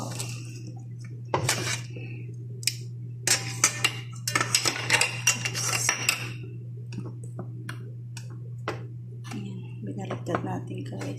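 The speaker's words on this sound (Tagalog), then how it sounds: "Binaliktad natin guys ang ating chicken." Chicken being turned over in a pan, with clusters of metallic clinks and scraping from the utensil against cookware over a steady low hum, and a voice talking at times.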